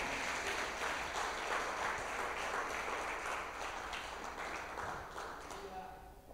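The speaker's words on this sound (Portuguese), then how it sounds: "Dá um aplauso bem forte a Jesus." Loud applause from a church congregation honoring Jesus during a sermon, thick crowd clapping with voices mixed in, gradually thinning and fading near the end.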